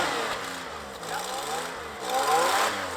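An off-road vehicle stuck in a ditch during a winter charity off-road outing revs its engine steadily for a few seconds, the note rising and falling, with the revs climbing near the end.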